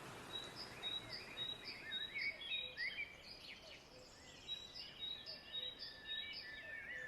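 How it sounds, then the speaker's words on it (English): Birds on Mount Lemmon, Arizona, beside flowing streams, trade repeated thin high chirps and short whistled phrases at a moderate distance, faint over a steady wash of running water. "Surrounded by the flowing streams, the birds chirping"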